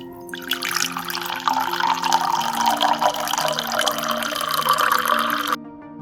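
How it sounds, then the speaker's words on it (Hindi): Lemon water poured into a glass, a steady splashing trickle that rises in pitch as the glass fills, close and fairly loud, then stops abruptly. "पानी को गिलास में निकाल लें।"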